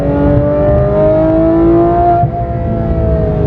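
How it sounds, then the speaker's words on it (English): Car engine pulling hard under acceleration while being driven on a winding road, a loud steady drone with rising harmonic tones that dip briefly near the end, recorded from inside the cabin. "So I'm trying to hold the camera and drive."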